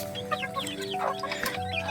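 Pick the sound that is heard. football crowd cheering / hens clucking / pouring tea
hens clucking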